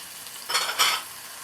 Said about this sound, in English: give this a nice big stir to get it all mixed in well